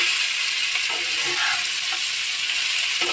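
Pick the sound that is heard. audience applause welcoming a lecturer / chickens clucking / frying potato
frying potato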